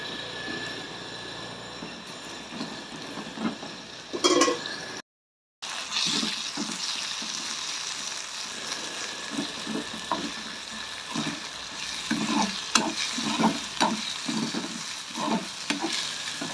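Dried fish sizzling in hot oil with onions and green chillies, stirred by a spoon in repeated scraping strokes over a steady frying hiss, close and moderately loud, with a brief gap partway through.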